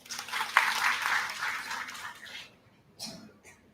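A conference audience claps to welcome the Vice Chancellor to the stage, a fairly soft burst of applause that fades out after a couple of seconds, followed by a few scattered claps.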